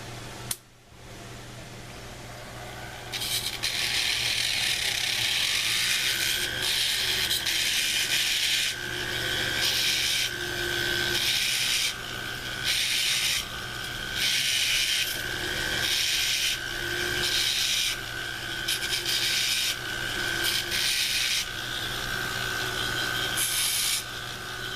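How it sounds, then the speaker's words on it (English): A heatless wheel on a rotary power tool grinds the edges of a silver ring. It makes a steady, close, high-pitched rasping whine in repeated passes that stop and restart over a constant motor hum. No one speaks. "I like to use my heatless wheel or Mizzy wheel and take off those edges."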